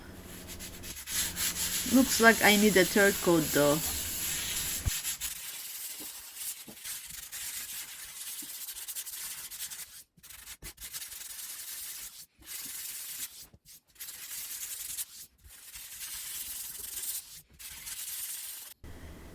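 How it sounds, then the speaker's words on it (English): Scratchy rhythmic rubbing of a sanding block on a patched plaster wall, steady strokes close by, followed by a short spoken remark and more intermittent scraping. "So we are going to start sanding this area now."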